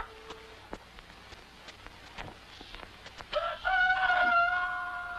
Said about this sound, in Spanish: El último canto del gallo madrugador era nuestra propia voz de aliento.